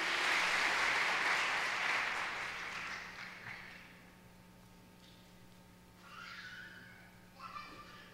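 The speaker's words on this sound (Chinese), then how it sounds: "然后我们来拍手今天的讲员" A church congregation claps for the visiting pastor at a Sunday service, with applause loud at first and fading out over a few seconds, followed by quieter hall sounds and a brief voice.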